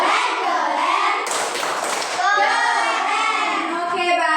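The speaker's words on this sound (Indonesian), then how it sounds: "Tepuk tangan, tepuk keren dulu untuk kelompok 2" Primary school children clap a rhythmic classroom cheer for a group after its presentation, a short patterned burst of claps mixed with young voices chanting along, close and lively.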